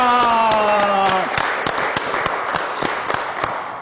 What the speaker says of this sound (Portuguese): vamos aplaudir ele, que é o nosso líder espiritual, Pastor Taborda